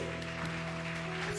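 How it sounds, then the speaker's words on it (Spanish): A church congregation claps together during an evangelical service, a dense steady patter of applause under sustained musical tones, with no talking. "Dale fuerte el aplauso entonces"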